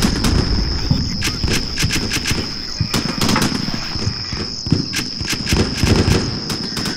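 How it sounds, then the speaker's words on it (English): Stryker vehicles returning fire in the Combat Mission: Shock Force war game at night: repeated rapid bursts of automatic gunfire over a steady rumbling battle bed, with sharp cracks recurring throughout and a constant high whine. "Then gets taken down by sniper, and I immediately return fire from the strikers."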